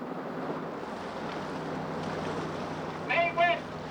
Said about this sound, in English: Stop your engine!